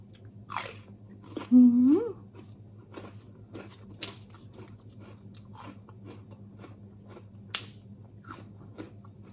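Close, crisp crunching of crunchy green papaya salad being bitten and chewed, in several separate bites over a low steady hum, with a brief higher vocal sound early on.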